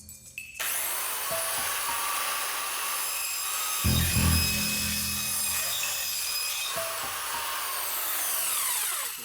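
A demonstration cutting tool is plugged in and switched on: after a brief quiet moment a loud, steady high-pitched whine and hiss fills the space and runs without a break, with a short low thump partway through.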